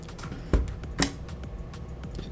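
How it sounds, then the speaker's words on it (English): A part snaps into a new PlayStation 5 during unboxing with two small, sharp clicks about half a second apart, quiet and close against a soft background hiss. "click this in."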